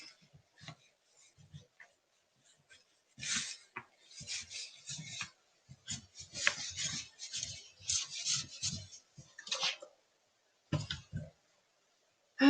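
Damp baby wipes rubbed along a painted wooden spindle to distress the finish, giving soft, irregular rasping and swishing strokes in short bursts with brief pauses, close and fairly quiet.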